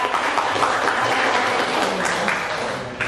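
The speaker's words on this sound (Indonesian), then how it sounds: "saya beri tepuk tangan terlebih dahulu kepada Bapak" Audience at an Indonesian university legal outreach seminar on fair regional elections applauding a speaker, a dense, steady wash of many hands clapping close by throughout, tapering slightly at the end.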